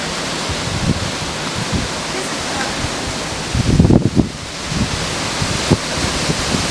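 Strong hurricane wind from Hurricane Irene buffets a back deck in Rhode Island, a steady broadband roar with gusts swelling near the middle; faint voices are heard briefly beneath it.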